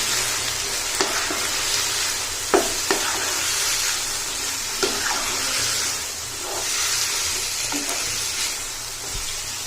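Potatoes, green beans and finely chopped tomatoes with ground coriander frying in a pan as they are stirred together, a steady close sizzle broken by a few sharp scraping knocks of the spoon against the pan.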